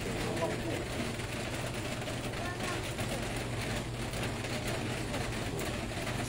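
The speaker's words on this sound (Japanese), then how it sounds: "すごい雨。" A constant roar of heavy rain surrounds a walker in the misty lanes of Jiufen, Taiwan, at night, unbroken and loud throughout, with voices talking beneath it.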